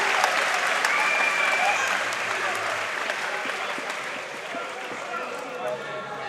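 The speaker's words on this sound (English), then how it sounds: "Deion's fans are still in fine voice." Boxing fans at a fight crowd-chant and cheer in a steady, roaring wash of voices. The sound stays fairly loud and continuous, with faint sung notes surfacing early and easing slightly toward the end.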